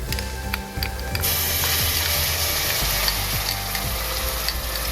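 Chopped tomatoes hit a hot frying pan of browned onions for a Punjabi chole paneer, and a loud, close, continuous sizzle swells and holds over a few clinks of a spoon.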